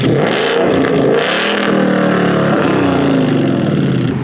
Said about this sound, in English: This ain't stock, man. This does not sound stock.